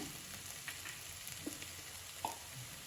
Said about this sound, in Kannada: ಈಗ ಇದು ಹಸಿ ವಾಸನೆ ಹೋಗೋ ತನಕ ಸ್ವಲ್ಪ ಫ್ರೈ ಮಾಡ್ಕೊಳ್ಬೇಕು